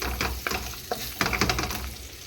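Garlic and ginger frying in a pan, a steady sizzle with scattered crackles and clinks from stirring, close and fairly quiet, with no voices.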